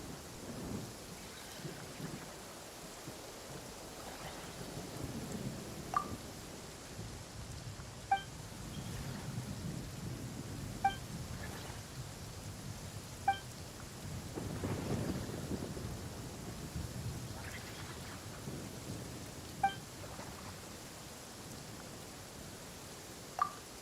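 Stormy weather in the Monster Hunter Wilds video game, with steady rain hissing throughout, low thunder rumbles swelling and fading, and a few sharp bright cracks at intervals.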